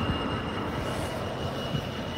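Diesel train engine rumbling steadily at a level crossing on the Great Northern Terrace by Sincil Bank, a continuous low drone with faint wheel noise, fairly close, no voices.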